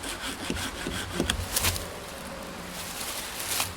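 A hand saw cuts through an invasive vine along a trail, its quick back-and-forth rasping strokes close and fairly loud, with no talking.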